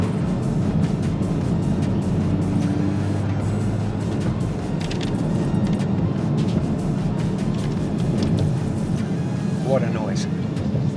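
Engine of a 2022 Porsche 992 GT3 driving slowly through town traffic, a steady, loud low rumble heard from inside the cabin with brief higher-pitched notes near the end.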